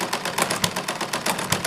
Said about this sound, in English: And again it has slowed the engine down.